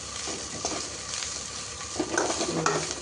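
Ingredients for South Indian peanut chutney frying in a pan, with a steady sizzle broken by a few stirring scrapes and clinks of a utensil against the pan, close and unaccompanied by voices.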